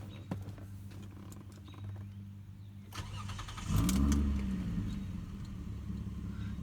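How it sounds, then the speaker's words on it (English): A 2002 Lexus ES 300 with a slight exhaust leak cranks and fires up partway through, settling into a steady, close, rumbling idle after a quiet stretch of background hum. "it has a little bit of an exhaust leak, especially when you kind of rev it"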